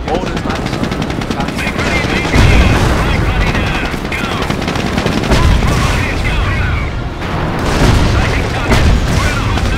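Anti-tank guns and heavy gunfire pound away in a World War II battle in Company of Heroes: Opposing Fronts, with dense machine-gun rattle and booming explosions sustained and loud, voices shouting beneath the din.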